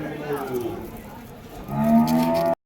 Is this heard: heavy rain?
no